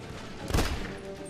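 Gunfire in The Bureau: XCOM Declassified comes as one short, heavy burst in the middle of a low, muffled game background, fairly faint and quickly gone.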